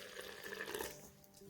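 Plain water poured into paratha dough, a faint, soft trickle lasting about a second and a half.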